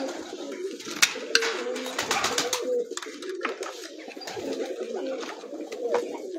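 A small flock of pigeons coos continuously on a Kala Bagh rooftop, low throaty calls repeating and overlapping, mixed with sharp clicks and wing flutters nearby.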